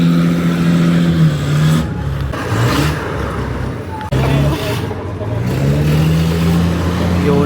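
A motorcycle engine revs inside the hold of a ferry, rising and falling in several close, loud surges over a constant rumble, with people talking throughout.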